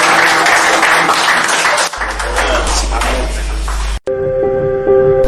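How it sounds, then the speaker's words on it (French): A church congregation applauds during a French-language service, loud clapping and crowd noise that breaks off abruptly, followed by a low hum and then sustained keyboard-like tones. "Il faut applaudir ça à Jésus."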